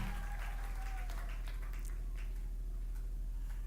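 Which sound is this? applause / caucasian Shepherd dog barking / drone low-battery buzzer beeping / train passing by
applause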